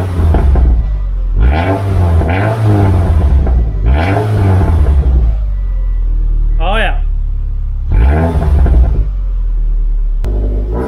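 A Subaru ice racing autocross car engine revs up in several loud, close bursts, each swelling and falling back to a rumbling idle between throttle blips.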